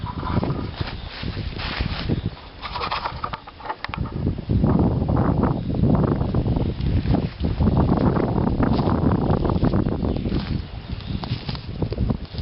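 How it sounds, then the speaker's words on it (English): Strong wind outdoors on a spring foraging trip, gusting and buffeting against the microphone in loud, uneven surges that swell and ease over several seconds, with no talking. "There's a lot of wind today"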